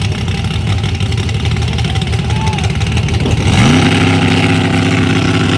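Small-tire drag racing car at a Dallas, Texas drag strip, engine droning steadily then rising sharply in pitch as it revs and launches off the line, loud and close, with crowd or commentary noise underneath.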